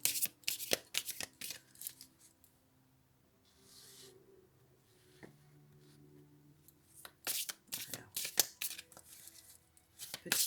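Tarot cards are shuffled in crisp, rapid riffling bursts at the start and again near the end, with a quiet pause of soft rustling and a brief voice between.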